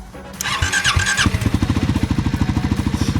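A Triumph 400 motorcycle engine cranks with a starter whine, catches, then settles into a steady, rhythmic idle, close and fairly loud.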